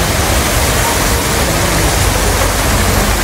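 A waterfall at the Erawan Museum in Bangkok, heard as a steady, loud, broad rush of falling water that fills the whole stretch without a break and with no voices.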